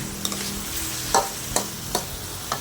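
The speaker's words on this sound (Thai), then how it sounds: "เติมน้ำลงไปอีกนิดหนึ่งจะออกแห้งไปหน่อยนะคะ" A tofu and chili stir-fry sizzles in a pan after a splash of water goes in, the frying hiss punctuated by sharp, roughly evenly spaced spatula taps against the pan, with no speech.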